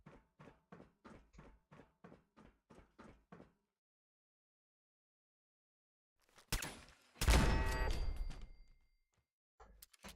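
A rapid string of about a dozen sharp mechanical shots from a video game turret gun, then silence, followed by a heavy burst of clanking, rumbling impact noise.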